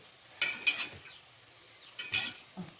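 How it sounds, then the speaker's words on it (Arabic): Yogurt and milk are stirred in a pot: two pairs of quick, soft scraping strokes separated by near silence, quiet and close. "نقلب الزبادي مع اللبن كده"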